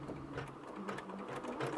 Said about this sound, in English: So we are going to stitch out colorway 6